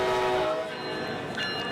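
A train horn sounds in a radio-show setting, a steady chorded blast at moderate loudness that holds for about half a second and then fades into a lower rumble with another faint tone near the end.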